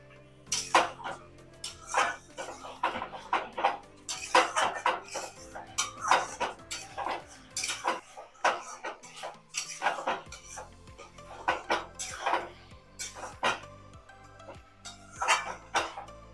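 Mutton bhuna with chopped coriander leaves being stirred in a pan, a spatula scraping and clanking against the metal in repeated irregular strokes, close and loud with short pauses between bursts.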